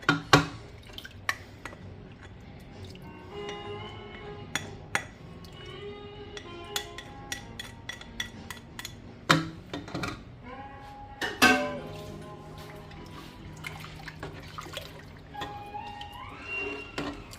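A spoon stirs broccoli cheese soup in a metal pot, making scattered clinks and scrapes against the pot with soft liquid sloshing, close and fairly quiet, in irregular bursts with no speech.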